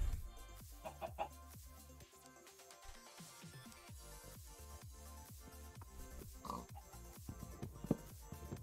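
Chickens clucking in Minecraft with All The Mods 5: repeated short clucks and squawks recur throughout, mixed with other animal noises including pig-like grunts, moderately loud over a steady game background.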